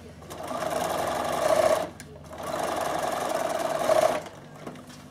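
Bernina sewing machine running a zigzag stitch along the raw edges of pants, two sustained whirring bursts separated by a short pause, close and loud.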